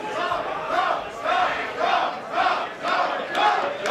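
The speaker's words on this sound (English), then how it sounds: "Crowd trying to will Jeff Cobb back here" A pro wrestling crowd in Reseda, California chants in a steady rhythmic pulse, with about six loud, even beats. The full arena is heard on its own without commentary.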